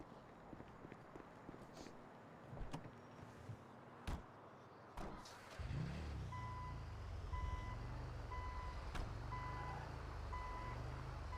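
A vehicle being parked in a video game gives steady repeated reversing beeps over a low engine rumble after a few thumps and clatters, fairly close, with no talk.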